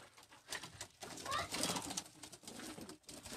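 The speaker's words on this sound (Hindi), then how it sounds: "ये इमाम दीन कबूतर है मेरा माशाल्लाह" An Imam Din breed pigeon coos nearby, soft throaty calls amid a cluttered rooftop background with faint rustling.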